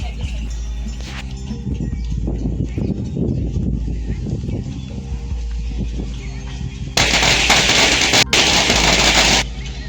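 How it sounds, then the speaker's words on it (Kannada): Crowd noise in Thailand gives way to a loud, dense burst of crackling firecrackers going off in rapid succession. "ಈಗ ಪಟಾಕಿ ಸದ್ದು ಕೇಳಿಸುತ್ತೆ"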